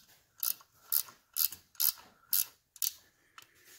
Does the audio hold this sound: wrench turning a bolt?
yes